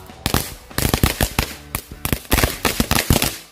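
A magic ball firecracker fires a rapid, irregular string of loud sharp cracks for several seconds, each shot close and punchy before the bursts taper off.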